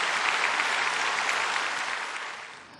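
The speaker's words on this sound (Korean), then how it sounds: "다시 한번 감사한 마음으로 박수로 우리 한번" Congregation applause at a church retreat, a dense, steady wash of clapping from a large group that gradually fades away near the end, with no talking over it.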